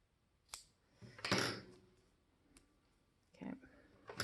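Scissors snip through T-shirt fabric in a few separate short crunching cuts, close and fairly quiet, with gaps between strokes.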